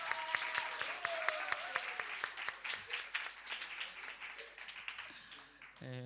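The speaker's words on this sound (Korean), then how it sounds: "우리 잠시 자리에서 일어나면 박수로 환영하도록 하겠습니다" A church congregation stands and claps to welcome eight visiting guests during a Sunday service. The full-room applause is steady and dense, then thins out toward the end.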